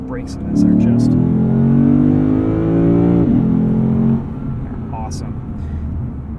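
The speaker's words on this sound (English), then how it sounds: "And the soundtrack that this 5-liter V8 makes, it's good, guys." Inside a 2019 Lexus RC F, the 5-liter V8 revs loudly, its pitch sweeping up and then dipping over about four seconds before easing back to a lower hum, with a voice briefly heard over it.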